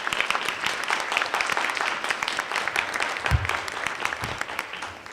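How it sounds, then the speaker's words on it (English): Dense, steady round of applause from a summit audience at a fair and affordable housing event, sustained many-handed clapping that stays loud throughout and tapers slightly at the end. "Can we give our moderator, Mr. Dan Cornelis, and the panel a round of applause?"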